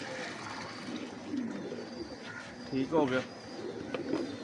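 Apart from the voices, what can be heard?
pigeons cooing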